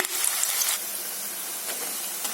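Rice flour pakoda batter frying in hot oil, a loud, close, steady sizzling hiss with a few brief louder bursts, with no talking.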